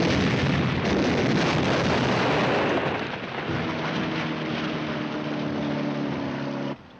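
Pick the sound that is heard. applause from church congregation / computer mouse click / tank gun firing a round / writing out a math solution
tank gun firing a round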